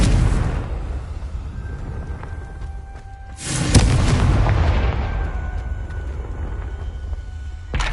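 A Confringo fire spell goes off in the game Hogwarts Legacy, inside a goblin mine: one loud, close explosive blast midway, surrounded by a rumbling background bed.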